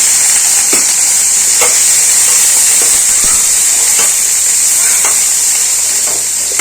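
Broccoli and other vegetables fry in a pan over a high flame with a loud, constant sizzling hiss, broken by faint scraping taps of stirring throughout.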